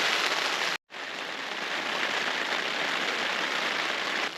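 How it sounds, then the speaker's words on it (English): Steady rain patters on surfaces during a wild camp in the Forest of Bowland, a dense, even hiss heard close by and interrupted once by a brief cut of silence. "It's nice to be out in the rain as well."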